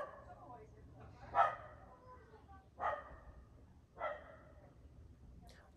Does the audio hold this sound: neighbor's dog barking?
yes